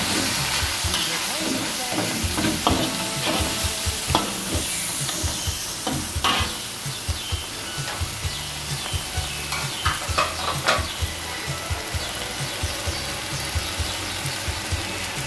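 Wood ear mushrooms are stir-fried in a hot pan, giving a loud steady sizzle with repeated scraping and tapping of the spatula, close up and continuous, with no talking.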